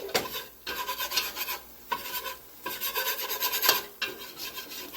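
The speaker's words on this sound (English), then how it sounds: "I'm just whisking it to make sure it doesn't burn" A whisk scrapes and rasps around a pot of roux made from a stick of butter and half a cup of flour, cooking to golden brown; steady rubbing strokes come in bursts with brief pauses, close and clear, no talking.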